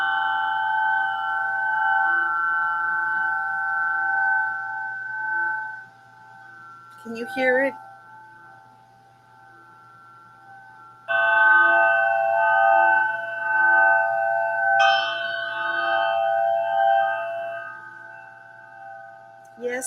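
Meditation chimes and a triangle ring out in long, sustained metallic tones, struck afresh a few times so the shimmering notes swell and slowly decay, with a brief spoken question between strikes.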